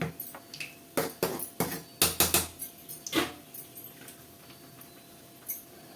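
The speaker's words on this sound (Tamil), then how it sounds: "அப்புறம் கொஞ்சமாக சோம்பு, லைட்டாக பொரிஞ்சு வரட்டும்" Fennel seeds splutter in hot oil for a Tamil mutton curry, a burst of sharp close ticks and pops clustered in the first half, then thinning to an occasional crackle over quiet background.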